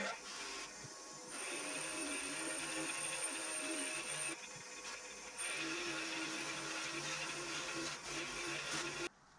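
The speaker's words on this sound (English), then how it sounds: "we're going to bung a bit of this grey cutting compound or polishing compound onto that wheel there, and we're going to give it a roughing polish" A buffing wheel spinning against aluminum parts loaded with grey cutting compound for a roughing polish, a continuous whirring hum with brief dips as the part is pressed and lifted.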